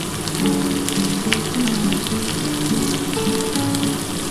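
Hilsa fish head curry with turmeric fries in a pan, giving a dense, even sizzle with crackling spatters that holds steady for a few seconds.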